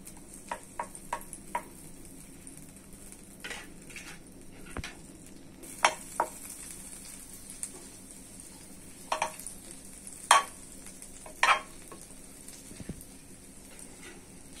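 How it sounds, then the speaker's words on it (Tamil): Butter cube melting in a hot kadai, a soft steady sizzle with scattered light ticks and clinks of utensils against the pan, fairly quiet and close. "கடாய் நல்லா சூடாயிடுச்சு. இப்போ நம்ம பட்டர் கியூப் ஒன்று போட்டுக்கிறேன்"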